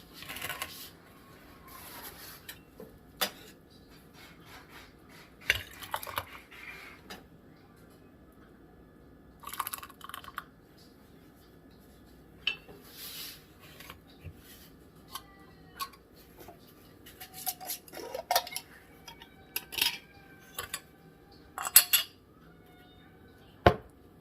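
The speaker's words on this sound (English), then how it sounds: "And then put your lid on there" Lids being placed and screwed onto glass jam jars in a kitchen, sparse light clicks, taps and glassy clinks scattered over a quiet background.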